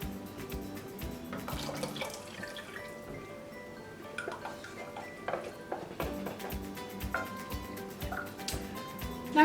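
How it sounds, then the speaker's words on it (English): Vegetable stock made from stock cubes and boiling water, then passata, poured into a soup pot, giving a continuous liquid splashing and gurgling with clinks from the pot, fairly close and quiet. "litre of vegetable stock using 2 stock cubes and boiling water, which I'm now going to add"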